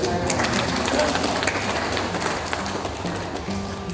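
An audience claps at a Ministry of Religious Affairs family gathering in Nganjuk, a steady patter of many hands that fades gradually, with voices speaking underneath.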